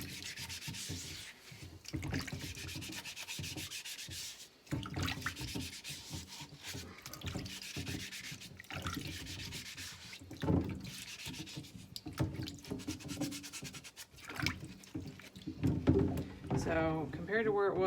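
A Berkey water filter element is scrubbed in long, rhythmic rasping strokes, close and fairly loud, with brief pauses between bursts.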